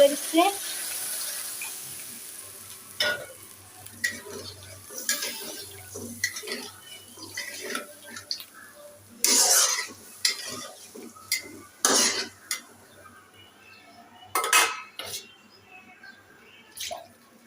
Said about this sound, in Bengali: তো একটু কষিয়ে নিই মাছটা কষানো কমপ্লিট করছে এখন যে ঝোলের পানি অ্যাড